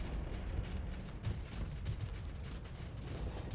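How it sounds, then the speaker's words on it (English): Shotgun weapons fire in the space combat game Starsector, a dense continuous rumble of overlapping blasts and booms, moderately loud with no talk over it. "So I'm not sure why these shotgun weapons are going off right now."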